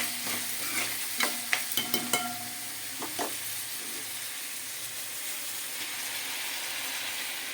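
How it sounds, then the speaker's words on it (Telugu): Fenugreek leaves are tipped into a tomato curry frying in a pan, followed by a run of sharp scraping stir strokes in the first few seconds over a steady, quieter sizzle that carries on alone. "ఇప్పుడు మెంతికూర వేసుకోవాలండి."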